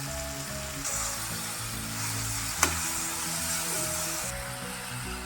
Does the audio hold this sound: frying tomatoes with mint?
yes